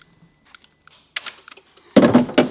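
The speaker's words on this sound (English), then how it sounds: "Can you hear it clicking?" A replacement part plugged into an Audi TT clicks in quick, sharp ticks, light and scattered at first, then a louder burst of clicking near the end.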